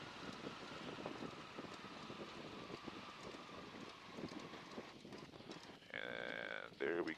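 Radial engine of a Stearman N2S-3 biplane in flight, pulled back to idle: a steady broadband drone with wind rush that softens and settles, ending with a brief tonal warning-like whine near the end.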